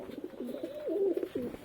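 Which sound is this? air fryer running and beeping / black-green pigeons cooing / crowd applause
black-green pigeons cooing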